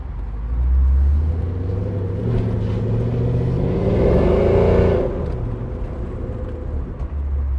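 A 1955 Ford truck fitted with a Coyote 5.0 engine rumbles along, its engine note rising and easing during a brake test, a continuous close drone with no talking.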